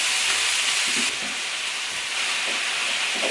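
Regular ground beef sizzles loudly in a skillet for a Mexican-style beef and rice dish, a dense, constant hiss close up with faint stirring scrapes beneath.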